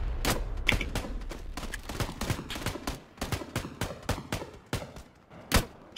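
Shooting in the video game PUBG, with an M24 sniper rifle in the fight: a run of sharp, separate gunshot cracks and thuds at uneven intervals, some close and loud, others softer, and a strong blast near the end.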